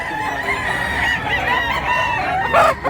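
Chickens and roosters cluck and crow in a busy flock nearby, with overlapping calls and a louder crow near the end.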